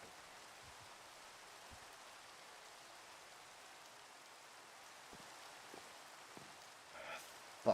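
Steady, faint rain hiss falls in a video game, a soft continuous wash with occasional light taps and a small bump near the end, no voices.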